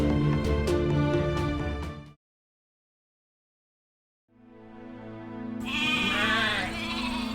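Sheep bleat loudly and close, a bleating burst at the start, then a gap of silence, then more wavering bleats from the flock.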